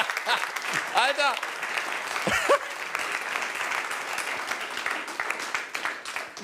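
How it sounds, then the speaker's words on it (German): Studio audience applause at a German stand-up comedy show fills the whole stretch as a steady wash of clapping, with a few brief whoops and voices rising above it around the middle. "Dass es dafür Applaus gibt"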